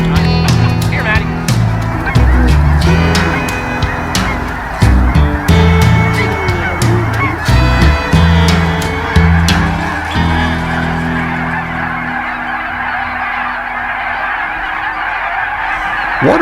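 A large flock of waterfowl honking during a hunt, dense overlapping calls, loud and continuous, with some low rumbling underneath that fades toward the end.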